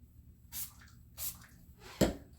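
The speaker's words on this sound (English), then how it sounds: "So I'm just going to spray that in my hair and just kind of finger it through" Marula Oil hydrating mist sprayed onto hair from a pump bottle, with three short hissing bursts about half a second apart, fairly close and quiet, the last one punchier.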